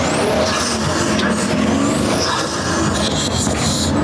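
A tuned Pagani Huayra fitted with downpipes spins its tires in a parking lot, its engine roaring loud and close, with high whining tones and tire squeal over a continuous rumble.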